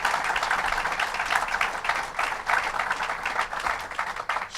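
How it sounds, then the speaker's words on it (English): A crowd at a governor's announcement event on Long Island gives a sustained round of applause for state legislators. Clapping is dense and steady throughout at moderate level. "Let's give them a round of applause."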